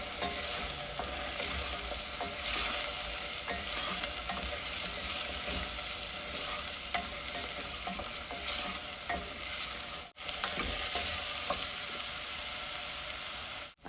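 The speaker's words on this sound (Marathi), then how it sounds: "यात आपण आता हे वाटण घालूया आणि छान परतून घेऊया." Onion and ground spice paste frying in a pan for a ridged gourd vegetable dish, a steady close sizzle with stirring scrapes throughout and no voices.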